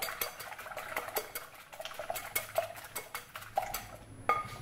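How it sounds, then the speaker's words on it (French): Eggs are whisked for a mushroom and plantain omelette, a rapid irregular series of light metallic taps and clinks against a bowl, fairly faint and close, with no talking. "je vais fouetter mes œufs"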